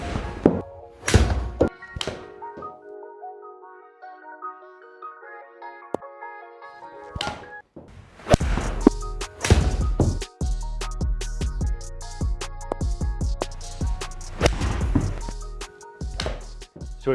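A golf club strikes golf balls in a series of ten shots, each a sharp close thunk spaced a second or two apart, with a faint hum in the background.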